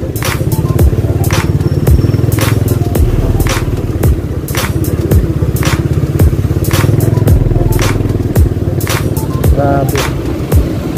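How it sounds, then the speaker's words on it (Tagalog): Heavy stop-and-go road traffic with motorcycles passing close by, a steady loud engine drone with revving, clatter and thumps, and voices talking over it throughout. "grabe ang traffic ngayon"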